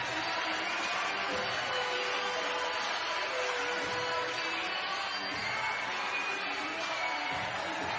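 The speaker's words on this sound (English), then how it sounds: "Listen to this crowd take the Edge home." A crowd in a basketball arena at an NBL Canada playoff game roars after a home win, a continuous, dense wash of cheering and shouting that stays steady and full throughout.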